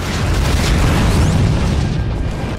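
Missile explosion in the video game Shadow Complex, a loud sustained rumbling boom with dense low-end roar lasting a few seconds, alone with no talk.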